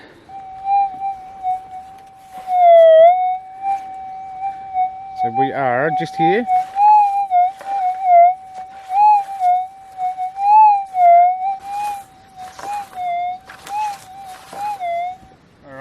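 A steady high-pitched metal detector tone hums continuously, wavering slightly in pitch, while someone speaks briefly near the start.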